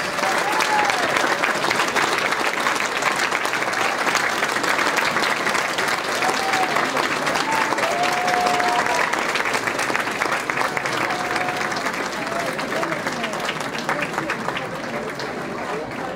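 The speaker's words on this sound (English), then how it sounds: "Please join me in a round of applause thanking our over 200 volunteers." A large crowd at a festival's opening ceremonies applauds its volunteers in a steady, even wash of clapping that holds throughout and eases only slightly toward the end.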